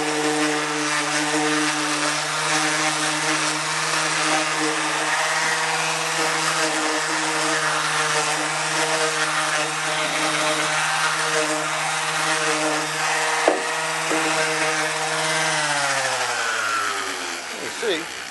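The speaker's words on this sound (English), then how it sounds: "So real quickly, with the sander." A power sander runs on cedar pergola lumber to round off its edges, a loud continuous droning whine held steady near the microphone before it winds down at the end, and a voice talks over it.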